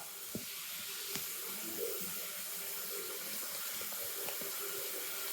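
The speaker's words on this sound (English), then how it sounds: "Yeah, that's water." Water runs steadily from a tap to shower a dog, a soft, continuous hiss and splash heard fairly faint at a distance, with a few small clunks along the way.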